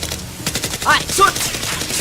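Nerf guns fired during a game-style Nerf war: a rapid burst of close, snappy pops and clicks in quick succession, with brief voices mixed in.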